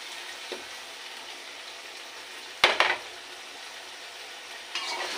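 Green chillies and spices fry and sizzle in a pan for an okra and potato curry, a steady close hiss with a sharp clink of a utensil midway and faint stirring scrapes.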